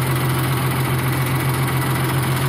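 A tractor engine idles steadily up close, a strong low hum with constant vibration and an even rumble throughout, with no talk over it.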